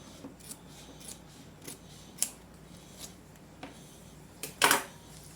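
Scissors snipping through excess sewing fabric while making anatomical straps and side pockets, a few sparse soft cuts followed by one louder, sharper snip close by, with no talking.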